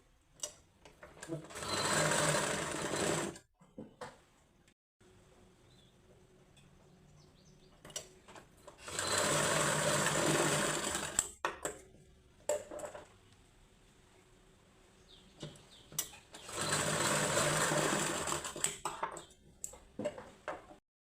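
A sewing machine stitches a katori blouse in three sustained whirring runs of a few seconds each, close and fairly loud, separated by quieter pauses with small handling sounds.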